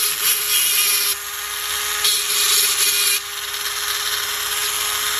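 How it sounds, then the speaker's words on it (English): An old knife blade being scuffed with lines across its surface, producing a harsh, continuous buzzing rasp close up that shifts in intensity in a few bursts, with no talking. "let's see if we can scuff up the surface a little bit"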